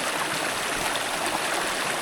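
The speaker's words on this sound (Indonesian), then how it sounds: "menemukan aliran sungai" A mountain river stream flows steadily along a trail on Mount Argopuro, giving a soft, even, continuous rush of water with no voices.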